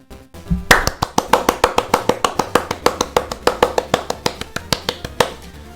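A single pair of hands claps close and loud in a steady, even rhythm, about two dozen crisp claps in a row with no voices.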